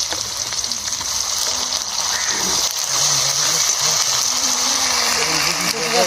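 Chopped onion and ginger-garlic paste frying in a pan for a chicken curry, a steady broadband sizzle running continuously throughout at close range, with no talking.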